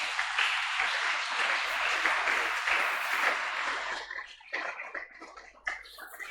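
A church congregation applauds during a French-language sermon: dense, sustained clapping that fills the space, then thins and tapers into scattered claps toward the end.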